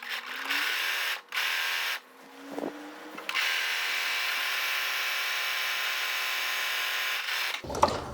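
Sewing machine stitching a folded fabric neck strap for a wrap apron-style dress, a steady close mechanical whir running in bursts with brief pauses and a clunk at the end.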